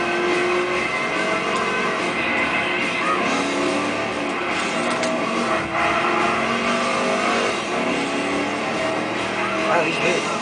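A race car engine in the Gran Turismo 6 racing game revs hard and steadily throughout, a loud continuous drone with other cars close by.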